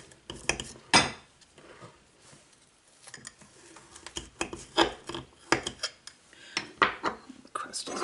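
A Pennsylvania Dutch shoofly pie in a pie plate being cut, with scattered clinks and scrapes of a utensil against the dish and flaky crust, close and fairly quiet, in irregular bursts with pauses and no talking.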